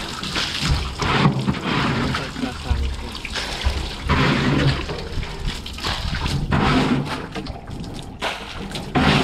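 Dirty water drains from a cattle water trough in a continuous rushing, splashing flow, with people talking over it throughout.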